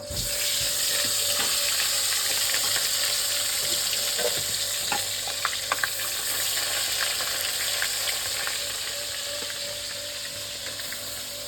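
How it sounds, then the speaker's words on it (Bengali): Koi fish sizzling steadily in hot oil in a kadai wok, a dense continuous crackle and hiss with occasional sharper pops, close and fairly loud throughout. "এবার মাছগুলো আমি সুন্দর করে ভেজে নেব"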